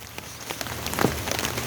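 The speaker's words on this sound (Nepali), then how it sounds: "पानी पर्यो टप टप सुन्दैछु" Rain falls and patters on a surface, with scattered light taps over a steady hiss, brief and moderately close.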